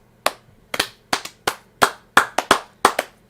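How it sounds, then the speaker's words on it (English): Hand clapping, about nine sharp, close claps in an uneven burst, loud and alone with no voices. "I clapped enthusiastically"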